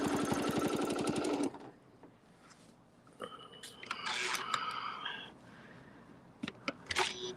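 A sewing machine stitches in a fast, even burst for the first second and a half, then stops and gives way to quieter handling noises and faint clicks.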